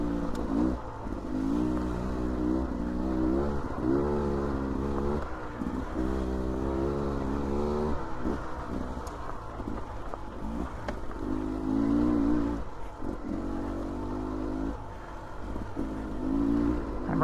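A 2024 Beta 300RR dirt bike engine revs up and down again and again in a loud, steady, close-up drone, with no talking.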